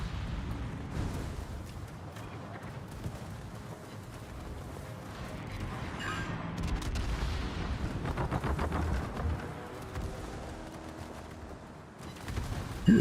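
Naval guns from a World of Warships battle thunder in a steady barrage of rumbling booms and explosive cracks as a warship fires HE shells, dense and continuous at moderate loudness.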